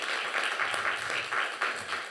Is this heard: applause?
yes